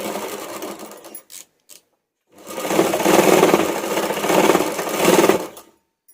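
Sewing machine stitching the shoulder seam of a high V-neck collar blouse, a couple of short bursts, then a steady, close whirring run of about three seconds.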